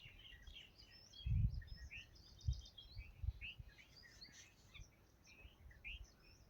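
Birds chirp in a quiet forest where wild berries are being gathered, several faint, scattered tweets and short calls over a soft background, with a few low thumps.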